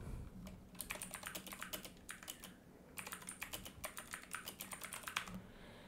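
A ticker title being typed on a computer keyboard, close rapid key clicks in three bursts separated by short pauses, quiet and with no talking.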